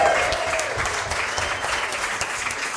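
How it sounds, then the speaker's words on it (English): Steady applause fills a studio gallery during an art opening event, a crowd clapping continuously at moderate loudness with a faint voice briefly heard at the start. "Big cheer."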